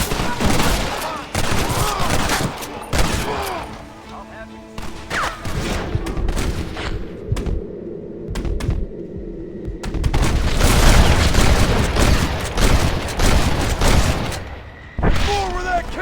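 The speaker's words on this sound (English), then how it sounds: "You man the Gatling gun, Marston!" A Gatling gun fires in the Western video game Red Dead Redemption, with dense, loud bursts of rapid gunfire and booms that pause briefly and then resume. Shouting voices are heard amid the shooting.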